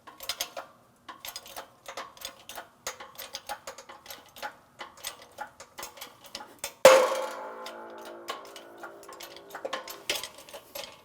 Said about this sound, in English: We'll continue on slowly pressing this down and out of position.